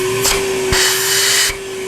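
A vacuum cleaner with a carpet attachment starts up: a short burst of motor roar, a brief pause, then a louder sustained whoosh of suction that cuts back down to a lower hum, all close and without voices.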